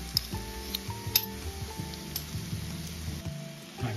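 Tomato paste fries in oil in a pot of meat do-piyazeh, a soft steady sizzle punctuated by light stirring clinks and scrapes of a spoon against metal, close but fairly faint.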